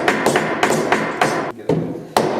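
A long clamp is handled on a wooden butcher block, giving sharp, close knocks and thuds in an irregular rhythm, about six hard taps in a couple of seconds.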